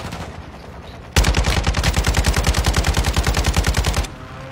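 RPK machine gun firing in the video game Fortnite: a loud, rapid, evenly spaced burst of about three seconds, close and punchy, cutting off abruptly into quiet game ambience.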